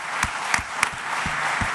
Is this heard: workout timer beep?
no